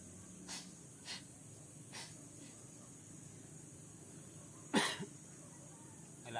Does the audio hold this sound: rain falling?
no